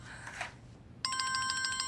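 A telephone starts ringing abruptly after a soft rustle, its electronic trilling ring pulsing rapidly and steadily at moderate volume in a quiet room.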